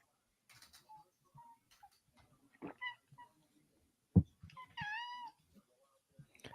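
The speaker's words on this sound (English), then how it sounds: "your cat's loud, Steps." A pet cat yowls loudly and close by, a drawn-out wavering meow near the end, after scattered ticking and small room noises.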